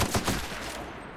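Gunshots in the video game The Outer Worlds, a quick burst of three loud shots at the start, fading into a dull noisy tail.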